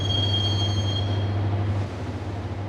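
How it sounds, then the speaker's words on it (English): Steady interior rumble of a moving train in Max Payne, with a sustained whine and a low drone that eases after a couple of seconds, loud and continuous with no voices. "the train doors had already shut behind me, and I was in for the ride"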